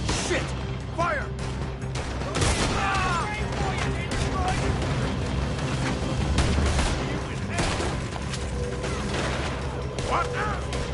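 Gunfire during a shootout in Red Dead Redemption 2, with repeated sharp shots and mechanical clatter over a dense, continuous game mix, while voices shout intermittently throughout.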